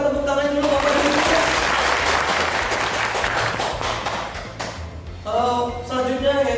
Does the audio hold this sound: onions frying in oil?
no